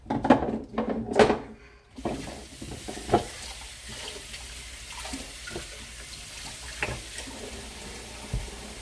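Hot chicken stock poured into hot canning jars, a soft liquid trickle with clinks and light clatters of glass and utensils, close and fairly quiet, with no talk.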